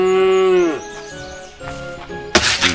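A cow moos once in a video game, a long, loud, drawn-out low call that falls away after under a second, followed by quieter game sounds and a sharp burst of noise near the end.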